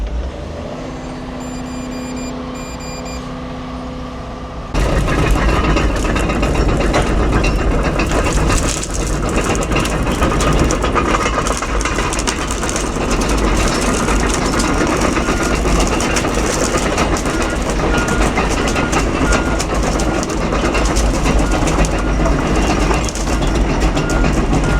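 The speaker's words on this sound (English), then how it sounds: "Am I the only one that loves the sound of grousers first thing in the morning" A tracked machine moves at a fast pace in the morning, a continuous loud clanking and rattling of steel grousers after a brief quieter idle, close and steady.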